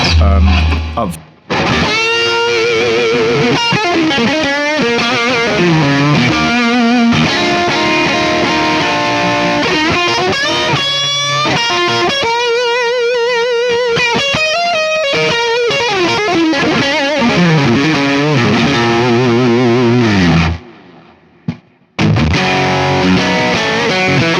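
A distorted electric guitar on its middle pickup, an EMG SASA85, plays a lively melodic lick with sustained, gritty notes, pausing briefly near the start and again near the end.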